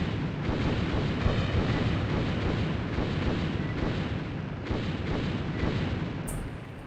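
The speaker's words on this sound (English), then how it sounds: "A lot of exploding barrels around here." Exploding barrels in the shooter Alien Trilogy produce a dense, continuous roar of blasts and rumbling booms filling the whole stretch, loud and close with no talking.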